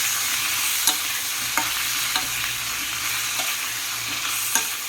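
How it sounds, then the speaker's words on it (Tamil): Eggplant sautéing in oil with asafoetida for an oil brinjal curry, a steady broadband sizzle with occasional sharp scrapes and clinks of a spatula stirring the pan, close and continuous. "நம்ம கத்திரிக்காயை ஃபுல்லாக இதை நல்லா திருப்பி விட்டு வதங்க விடணும்."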